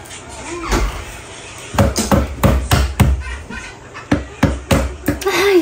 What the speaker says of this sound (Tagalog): gumamit rin ako ng martilyo para matanggal talaga sila